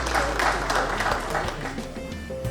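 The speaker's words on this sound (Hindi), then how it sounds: "आपकी भरपूर तालियों में जनाब सुहेल अनवर साहब तशरीफ़ लाते हैं" An audience at a mushaira poetry gathering claps to welcome a poet to the stage: steady applause from many hands that slowly thins out, with a low hum in the background.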